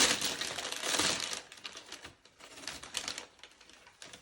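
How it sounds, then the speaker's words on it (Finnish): Fingers drum quickly on a hard wrapped gift package, a dense rattling patter that is loud at first, then breaks into scattered irregular taps. "Mä voin vähän rummuttaa tuossa."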